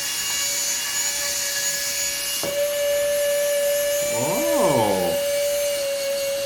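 The suction fan of a Radical Racers wall-climbing toy car starts up with a click and settles into a steady, high whine that runs to the end. A person speaks briefly over it.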